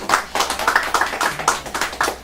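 Rhythmic hand clapping from a group, sharp repeated claps in a steady brisk beat, fairly close, with no talking over it.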